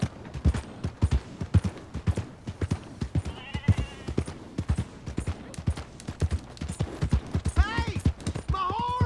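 Horse hooves clip-clop steadily in Red Dead Redemption 2, a close, regular trotting rhythm with short whinnies near the end and faint game voices underneath.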